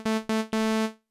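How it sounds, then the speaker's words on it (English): A Novation Summit synthesizer playing a plain initialized saw wave: three bright, buzzy sustained notes, the first two short and cut off, the last held and fading out, with no one talking. "just going to be a basic saw wave"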